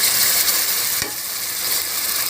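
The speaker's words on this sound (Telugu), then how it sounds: "ఇప్పుడైతే అల్లం చిన్నులపాయ పేస్ట్ వేస్తున్నాను" Ginger garlic paste dropped into browned onions for mutton curry, a continuous close sizzle with stirring scrapes, one brief low knock near the middle, steady and alone without speech.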